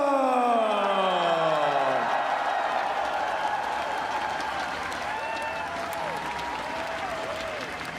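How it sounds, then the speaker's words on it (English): Sustained applause and cheering from a large crowd at the EVO 2017 Super Smash Bros. Wii U Top 8 esports finals, loud at first and gradually easing, with a voice ringing out over it at the start. "One more round of applause, y'all."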